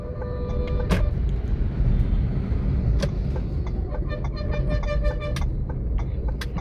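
A taxi car driving along a main road near Pappampatti in Coimbatore, a steady loud engine and road rumble throughout with a couple of faint higher tones over it, no talk.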